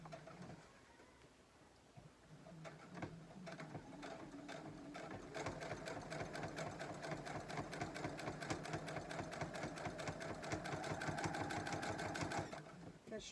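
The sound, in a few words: sewing machine stitching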